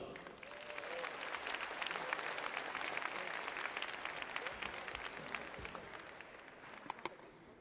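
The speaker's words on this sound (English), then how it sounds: "please give a big round of applause for our African drummers" An audience at a conference opening ceremony applauds African drummers, a sustained round of clapping at moderate distance that swells and then slowly tapers, with a few sharper claps near the end.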